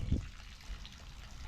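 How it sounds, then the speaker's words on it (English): Water gushes and trickles steadily from a hose hooked up to a pressure washer, a low continuous splashing flow with a brief louder burst at the start, no voices over it. "We've got to make sure we've got a good flow of water coming out."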